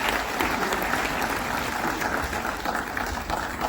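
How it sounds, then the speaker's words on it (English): Dense, sustained applause from an audience at an agreement signing ceremony, loud and even throughout with no pauses. "A big round of applause"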